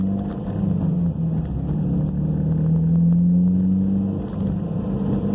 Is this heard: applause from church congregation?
no